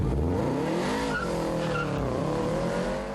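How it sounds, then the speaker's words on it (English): Race car tearing along a track in a chase against a California Highway Patrol officer, engine roaring loud and steady throughout with tires skidding and squealing over the drone. "After getting his car professionally inspected, Tyler is ready to race"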